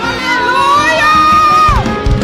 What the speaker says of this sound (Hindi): एक बार जोर से तालियों के साथ परमेश्वर की ऊंची आवाज में बोलो हालेलुया